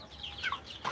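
A small cockerel on a small-scale poultry farm, kept among broiler chickens, gives a few brief, close clucks in a quick, short burst.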